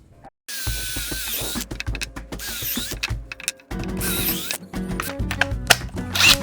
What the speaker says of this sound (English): we'll pre-drill 2 holes for each 2x4 on each of these pieces.